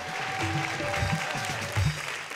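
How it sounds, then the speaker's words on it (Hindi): An audience at a live Hindi stand-up comedy show claps loudly and steadily, a dense wash of hands with voices mixed in underneath throughout. "बात समझ में आई हो तो एक बार जोरदार ताली बजा के बताओ।"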